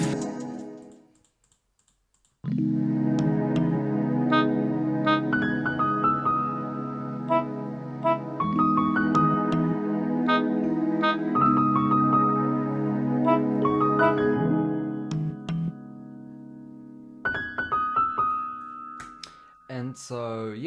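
A simple synth melody built in FL Studio for a beat, sustained chords with a lead line changing every few seconds, starting after a short quiet gap and playing alone without drums.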